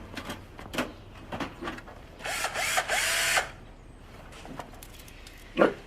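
A power tool whirs briefly for about a second, surrounded by clicks, clatter and handling noises of tools being moved about nearby.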